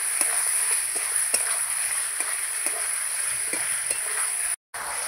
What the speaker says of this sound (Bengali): ভালো করে মশলাটা মাংসের সঙ্গে কষিয়ে নেব